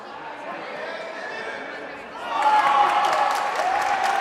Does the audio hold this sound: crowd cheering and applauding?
yes